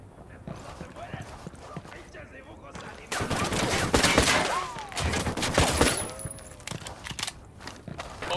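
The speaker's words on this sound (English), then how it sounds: "opening fire on these fuckers." In the video game Ghost Recon Wildlands, bursts of automatic gunfire crack in rapid volleys and grow louder partway through, mixed with clattering hoof-like steps and shouting voices.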